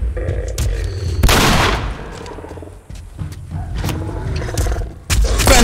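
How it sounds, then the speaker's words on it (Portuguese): Several loud revolver gunshots crack out amid game rumbling and clatter in The Last of Us Remastered, with sharp bursts at the start and near the end. "Vou usar uns tiros de revólver."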